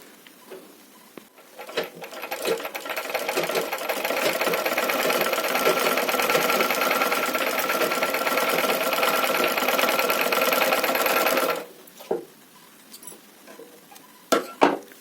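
A domestic sewing machine stitches through cloth. Its fast, steady mechanical whir runs for about ten seconds, then stops abruptly, leaving a few light clicks and taps.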